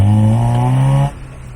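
Engine and intake roar from a Geo Tracker fitted with a snorkel pre-filter, heard from inside the cab as a loud, steady drone that drops away abruptly after about a second.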